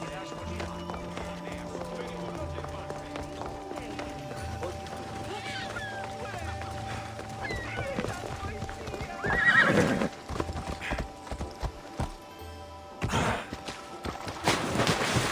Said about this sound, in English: They made horse travel so inconvenient at times.